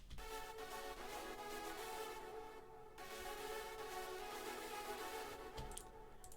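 A hardstyle synth lead with Echo Boy delay, saturation and no compression, playing sustained bright harmonic notes with a short pause mid-phrase, quiet and alone.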